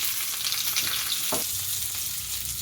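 Sliced onions and long-cut vegetables sizzle steadily in a hot pan while cooking veg kuska, a constant frying hiss with a faint stir partway through.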